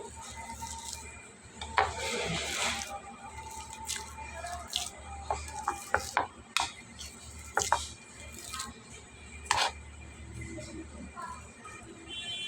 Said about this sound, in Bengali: আলুগুলোকে একদম ভালোভাবে ম্যাশ করে নিতে হবে